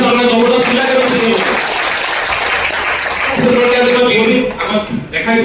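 Seminar audience applauding in a dense, steady wash of clapping that fills the whole stretch and tapers off near the end, with tonal voices or music showing through at the start and finish.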